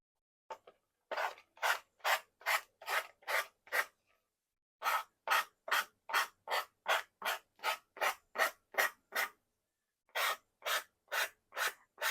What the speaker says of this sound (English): take your nail file or a sanding block. Remember, it's going to be hot, so be very careful. And just go across the edge.